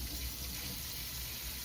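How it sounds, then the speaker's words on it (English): Tap water runs steadily over a blender blade in a kitchen sink during dishwashing, a soft continuous splashing stream at close range with no talking. "Run it under water."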